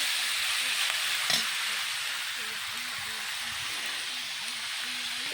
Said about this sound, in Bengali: ভেজে দেবো।